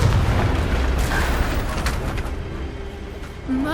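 A Confringo spell explosion in the video game Hogwarts Legacy, a loud booming burst with rumbling low end, followed by fading combat noise and a brief vocal cry at the close.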